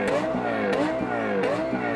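A Lexus LFA's engine revving hard and repeatedly, its pitch sweeping up and down in quick aggressive bursts, loud and close with a rasping, high-revving tone.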